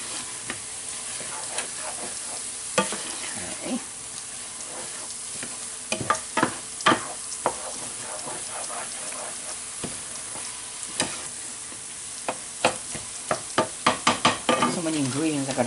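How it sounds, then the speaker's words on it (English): A spoon scrapes and knocks against a pan as a flour-thickened sauce for beef stroganoff is stirred over a soft, steady sizzle, the taps clustering into quick runs near the end. "Keep stirring it. We're making a nice sauce here."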